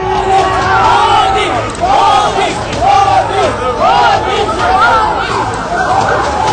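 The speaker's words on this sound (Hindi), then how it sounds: "मोदी के समर्थकों ने मोदी मोदी के नारे लगाए।" A large crowd of supporters gathered outside the New York Palace Hotel chants a leader's name in loud, repeated rhythmic bursts, with cheering and babble between the chants.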